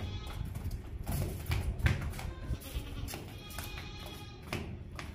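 Goat bleating at a livestock sale, several short nasal calls mixed with tapping and background farm noise.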